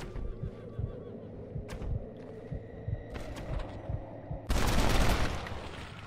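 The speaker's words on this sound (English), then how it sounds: "Fire some shots at him." Gunfire in the zombie western game Red Dead Redemption: Undead Nightmare, a string of sharp reports over a throbbing background score, ending in a loud, dense burst of noise.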